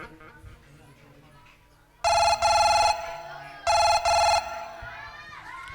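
A phone ringtone sounds loudly in two repeated bursts over a quiet room with faint background chatter.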